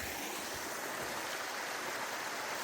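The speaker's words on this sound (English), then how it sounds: "That's a little waterfall" Small waterfall on Long Pond Stream along the Appalachian Trail, a steady broadband rush of falling water, constant and even with no voices over it.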